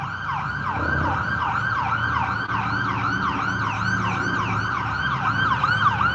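An ambulance leaving its station, its wailing siren cycling rapidly and continuously at moderate distance, steady in loudness over low traffic and road rumble.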